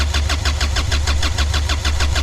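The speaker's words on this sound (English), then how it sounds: "you can now start turning the engine over to prime the injector" A Moody 33 sailboat's diesel engine is cranked by its starter motor without firing, a fast, even, rhythmic churning with regular pulses under a low hum, close and steady throughout.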